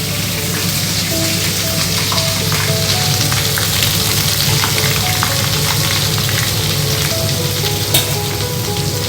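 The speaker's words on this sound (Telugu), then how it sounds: "గుమగుమలాడుతూ ఇలా వేగుతాయి." Chicken pieces fry in hot oil for a pickle, a loud, dense, continuous sizzle with crackling pops throughout, heard up close.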